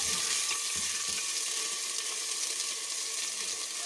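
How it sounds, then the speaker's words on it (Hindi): Water added to garlic and ginger frying in a pan sets off a loud, continuous sizzling hiss that holds steady for a few seconds with nothing else over it. "अब मैं हल्का सा इसमें पानी ऐड करूँगी ताकि लहसुन अदरक जले नहीं।"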